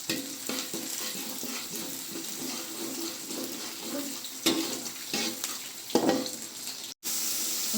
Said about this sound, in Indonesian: kita tumis bawang iris yang udah bawang merah, bawang putih yang udah kita iris, lalu kita tumis hingga wangi